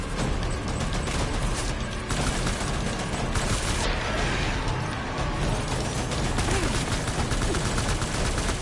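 Dense, sustained rifle gunfire from a firefight in Death Stranding, a steady loud barrage of shots with mechanical clatter running unbroken throughout, no voices.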